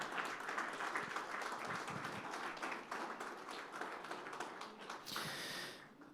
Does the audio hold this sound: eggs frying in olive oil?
no